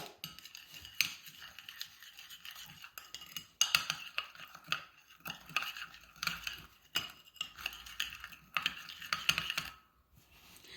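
Salt and chili powder seasoning gets mixed together for soya sauce fried chicken, with busy clinking, scraping and tapping against the dish in quick irregular bursts, close by and without speech.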